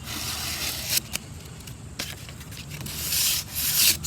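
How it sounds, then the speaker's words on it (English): Painted wooden table sanded by hand with a folded sheet of sandpaper, soft close rubbing and scraping strokes, a few quick passes followed by longer brisker rubbing near the end, with no talking. "you can just use a sheet of sandpaper like this, fold it in half, and do it that way"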